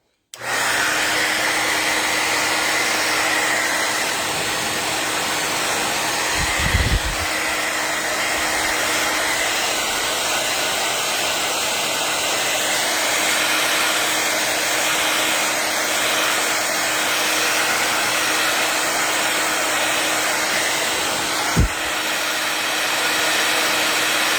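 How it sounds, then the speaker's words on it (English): A blow dryer runs loud and steady for a long stretch with a constant whirring roar, broken only by a couple of brief knocks. "I'm going to put the blow dryer on it so you can watch it crackle."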